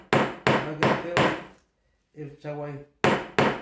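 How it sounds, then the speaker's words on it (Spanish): A metal hammer strikes a leather-punching tool in a handicraft class, sharp close blows in a quick series of four, a short pause with someone talking, then two more hits. "En este caso este tipo de martillo."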